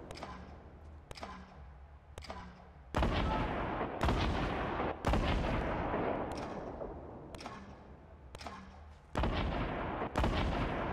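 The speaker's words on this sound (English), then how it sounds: "somebody's chunking nades in the grenade launcher" Grenade launcher blasts and gunfire in Fortnite, a series of about ten loud, booming explosive shots at roughly one-second intervals, each with a decaying tail, heavier and denser in the second half.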